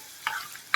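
Tomato chutney, Telangana-style pachadi, frying in oil in a pan while being stirred, giving two short bursts of scraping and sizzling about half a second apart, close and fairly quiet.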